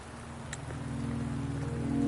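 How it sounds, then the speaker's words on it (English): Steady rain falls in the Wuthering Waves video game, a constant hiss of drops that slowly grows louder, with a low tonal hum beneath and no speech. "the rain won't last much longer"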